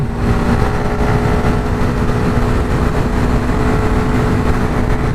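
A Honda RS150 V2 motorcycle engine roars steadily and loudly throughout a test ride, a constant close drone with no talk over it.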